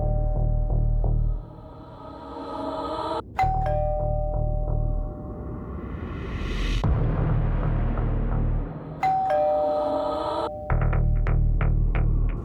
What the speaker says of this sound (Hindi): बस डोरबेल बजी।